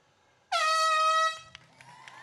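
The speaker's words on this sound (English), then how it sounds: "on the air horn" A single air horn blast sounds at the start of the Falmouth Road Race elite women's start, loud and steady for under a second before cutting off, followed by faint crowd noise.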